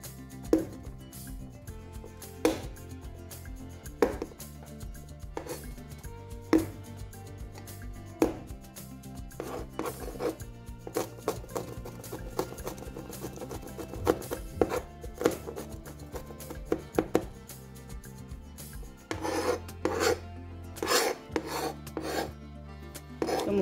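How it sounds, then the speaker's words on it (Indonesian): Garlic cloves crushed and then chopped with a knife on a cutting board, a long run of quiet, irregular knocks and scraping rubs at close range, with no talking. "aku mau geprek baru cincang"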